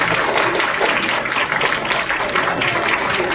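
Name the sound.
audience applause at children's event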